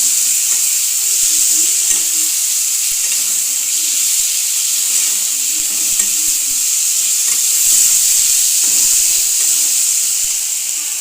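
Ginger garlic paste frying in a pan, a bright steady sizzle with soft stirring scrapes and occasional spatters beneath, close and continuous with no talk.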